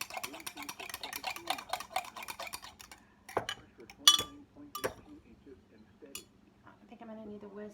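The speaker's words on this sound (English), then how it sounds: "Just keep stirring it." Caesar salad dressing being stirred in a bowl with a utensil, giving a quick run of close scraping and clinking strokes, then a few sharper clinks and quieter stirring, with a voice talking briefly near the end.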